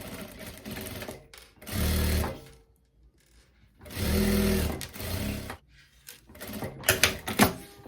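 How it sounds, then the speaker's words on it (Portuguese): Sewing machine stitching a pocket onto a viscose dress: loud bursts of running stitches in separate runs with brief pauses between, close up. "nós vamos costurar esse bolsinho aqui e um aqui"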